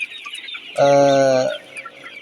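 A single loud, drawn-out Sonali hen call rings out close by on a chicken farm, with faint chicken clucks and farmyard noise before and after.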